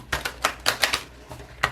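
A deck of tarot cards is shuffled by hand, a quick run of crisp riffles and taps, about six sharp bursts in close succession, near and fairly loud.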